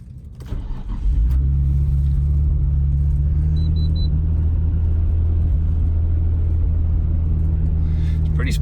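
A Nissan Skyline GT-R Z-Tune warms up at idle, its engine holding a steady, deep rumbling drone close by from about a second in, with no revving.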